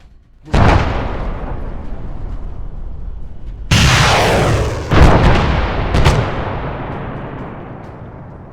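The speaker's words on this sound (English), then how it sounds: "We're going to utilize the tow launcher." A TOW missile launcher in the Arma 3 military game fires with a sharp loud blast, followed by a heavy explosion and two more booming impacts, each trailing into a long rumbling decay.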